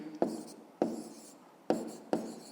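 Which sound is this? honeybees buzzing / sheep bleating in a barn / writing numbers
writing numbers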